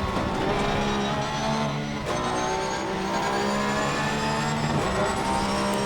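Porsche GT3 R race car engine at full throttle in the racing game Assetto Corsa Competizione at the Circuit of the Americas, a steady loud sustained engine drone with harmonic whine and brief shifts, no talk.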